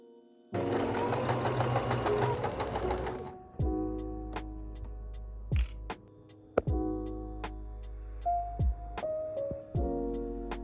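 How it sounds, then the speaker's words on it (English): A sewing machine does practice stitching on garment fabric. It whirs in one continuous run, then stitches in several shorter bursts separated by brief stops, with small clicks throughout. The sound is close and clear, with no talking. "I actually did some practice stitching to work out the best tension for my fabric"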